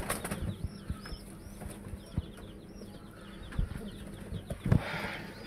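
Indian Lotan pigeons in a home loft in Bogura, with soft cooing, shuffling and flapping wings near and far, steady and moderately quiet, plus a few louder close thumps and flutters toward the end.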